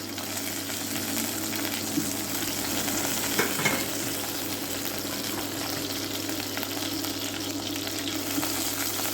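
Whole cardamom pods and star anise fry in hot oil with a soft, even sizzle at moderate distance. It holds steady, with a brief scrape of stirring near the middle, and there is no speech.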